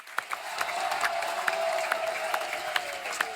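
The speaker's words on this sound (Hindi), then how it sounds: "जोरदार तालियां हो जाए इनके लिए।" Studio audience claps steadily at a Hindi TV comedy show, a dense continuous applause with sharper individual claps popping through, moderately loud and sustained throughout, no speech over it.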